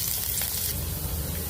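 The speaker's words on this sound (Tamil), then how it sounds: "எண்ணெய் சூடான அப்புறமா பொடியாக நறுக்கி வச்சா பூண்டு கொஞ்சம் பொன்னிறமாக வறுத்துக்கோங்க" Chopped garlic fries in hot coconut oil in a kadai, giving a steady, close sizzle with a bright crackling hiss throughout.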